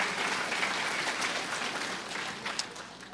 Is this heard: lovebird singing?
no